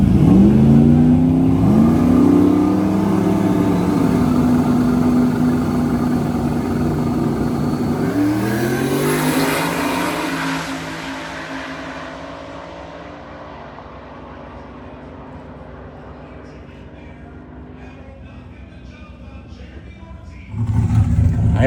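Loud V8 drag race cars launching and accelerating hard in the finals at LS Fest, engines rising in pitch and fading into the distance, then a sudden loud burst near the end.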